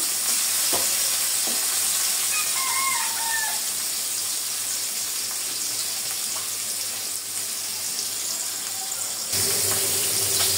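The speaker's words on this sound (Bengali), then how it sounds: "আর মাছটা ভাজা হয়ে গেছে।" Pieces of rohu fish fry in a pan, giving a dense, loud, continuous sizzle heard close up, broken by a few faint clinks and an abrupt change near the end.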